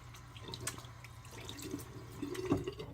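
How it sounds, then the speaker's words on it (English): A bathroom tap runs steadily while hands are rinsed under it after a shave, a soft, close splash that grows a little busier toward the end. "wipe my face off and rinse my hands off"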